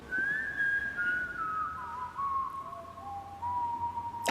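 A clear, sustained human whistle carries a wavering melodic line over a soft musical backing, moving slowly between pitches in long held notes.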